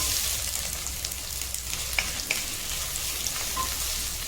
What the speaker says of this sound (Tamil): ஸோ நல்லா வந்து கோல்டன் ப்ரௌன் ஆகிற அளவுக்கு நம்ம வணக்கி எடுத்துக்கலாம்